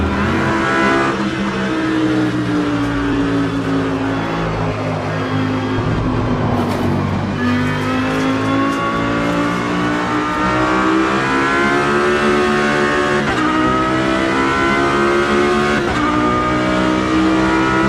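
A car driven in a VR racing video game on SteamOS, a loud continuous engine drone rising and falling as it revs and accelerates, with brief tire squeal, heard alone throughout.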